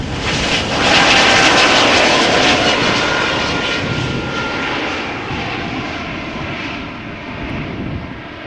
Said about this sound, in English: E2 Embraer 195 taking off from